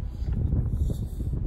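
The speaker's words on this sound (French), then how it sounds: "Alors il y a un peu de vent, j'espère que vous m'entendez bien." Low, rumbling wind buffets the microphone outdoors, a steady roar concentrated in the low end with no speech over it.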